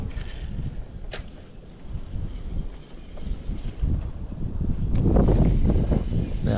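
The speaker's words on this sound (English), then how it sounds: "Now, west wind is blowing" West wind blowing across a lake full of lily pads, a steady broadband rush of moderate loudness that swells stronger toward the end, with no voices present.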